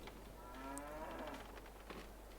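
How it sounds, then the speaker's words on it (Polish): Cows on a Polish farm give a single drawn-out moo lasting about a second, heard close and fairly clear over a low background hum. "przy okazji tutaj dwie krowy"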